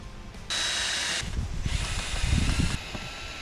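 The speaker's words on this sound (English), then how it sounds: "Then I can drill that one in too" A power drill driving timber screws while a shipping-container house foundation is assembled, with a steady high whine running for under a second, a pause, then a longer rougher burst of motor noise, close and fairly loud.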